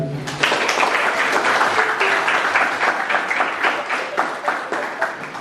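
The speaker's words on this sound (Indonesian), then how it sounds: "tepuk tangan dulu" A crowd claps at a school student council (OSIS) inauguration ceremony, a sustained burst of many hands with individual claps standing out, fading slightly toward the end.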